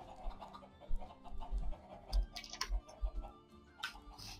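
Two chickens in Minecraft Pixelmon cluck in short, scattered bursts, fairly quiet, with soft clicks and taps mixed between the clucks.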